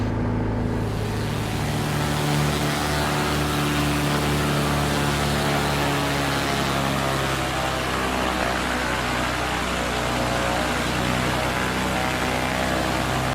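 Steady, loud drone of the twin-engine Cessna Skymaster's piston engines in Microsoft Flight Simulator, with a constant tonal hum and propeller throb holding unchanged throughout, no voices.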